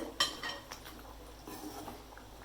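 A spoon clinks and scrapes inside a pot of Tamil dry fish curry (karuvadu kulambu) with curry leaves. A couple of sharp metallic taps come first, then quiet, gentle stirring.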